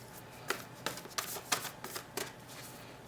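Tarot cards shuffled by hand in close, crisp riffling bursts that repeat several times in an uneven rhythm, with no talking.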